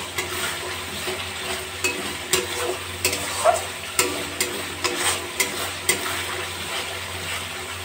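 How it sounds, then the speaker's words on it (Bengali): Spice masala fries in oil in a pan while being stirred now and then, a low sizzle broken by a regular series of soft scraping and tapping strokes of the spoon, close by. "মাঝে মাঝে এইভাবে একটু নাড়াচাড়া দিয়ে দিতে হবে, তা না হলে তলায় লেগে যেতে পারে।"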